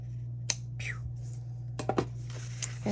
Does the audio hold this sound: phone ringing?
no